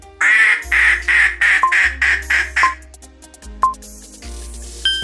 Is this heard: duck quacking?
yes